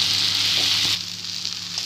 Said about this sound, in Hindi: अब हम इसमें जो भिंडी हमने फ्राई की थी वो डाल देंगे और अच्छे से मिलाकर दो मिनट के लिए इसको पकाएंगे।